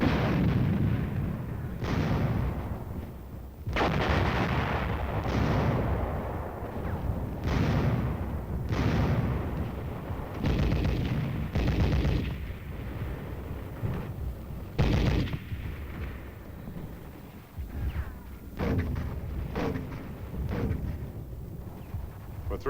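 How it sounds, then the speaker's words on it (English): Heavy artillery, tank and mortar fire pound continuously during a Korean War battle, with repeated deep booming blasts and rumbling bursts that overlap into a dense, loud barrage for over twenty seconds. "artillery, tank, and mortar fire overtured the attack"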